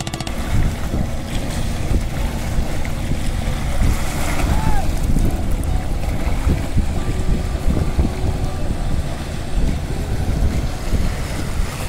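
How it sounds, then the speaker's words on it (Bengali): A speedboat arriving from Noakhali's Chairman Ghat at a quiet river crossing near Hatiya, its engine a steady close roar mixed with wind buffeting and water splash throughout. "এইমাত্র একটা স্পিডবোট আসলো, এই স্পিডবোটটা নোয়াখালী থেকে আসছে"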